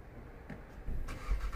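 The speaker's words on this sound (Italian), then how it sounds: "sentite lo scarico di questa GT mappata" A tuned 2018 VW Golf 7.5 GTI revs up with a deep, rising exhaust rumble, quiet at first then louder toward the end.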